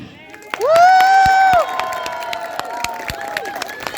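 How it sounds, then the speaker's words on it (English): An audience claps after a children's stage performance of a mythological story, scattered sharp claps close by, beneath a loud voice and shouting. "Please clap."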